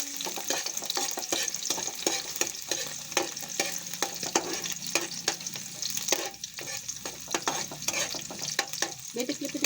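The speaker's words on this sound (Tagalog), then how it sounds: "Haluin lang natin siya" Sardines and glass noodles frying in a pan with garlic and onion while being stirred, a steady sizzle broken by frequent scraping and clinking of the utensil.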